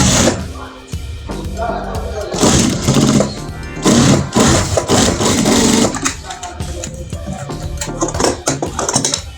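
A sewing machine stitches fabric for a handcrafted sofa seat, running in loud, uneven bursts close by, with handling noises and some talk mixed in.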